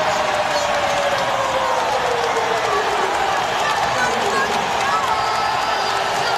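A basketball arena crowd at an ACC game between FSU and Louisville roars steadily and loudly, a dense wash of cheering sustained throughout with no letup.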